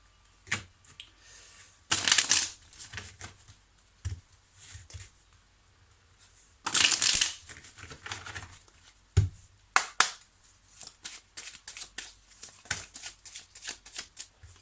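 Oracle cards are shuffled by hand, with two long riffling bursts followed by a string of quick, close taps and snaps as cards are handled and laid down.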